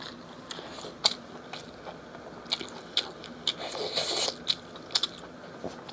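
Close, crisp bites and crunchy chewing of Chinese food in an eating show, sharp crackling snaps scattered irregularly over a soft background of mouth and utensil noise.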